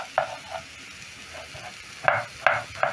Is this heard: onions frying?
yes